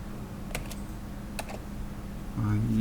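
Typing on a computer keyboard while working in AutoCAD, a few sparse, crisp key clicks over steady room noise, with a louder shuffle near the end.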